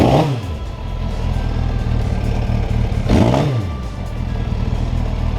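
Suzuki Bandit 1200 motorcycle engine, fully warmed up and running very rich, revved hard twice at full throttle, each burst rising and falling in pitch over a steady loud idle, close by.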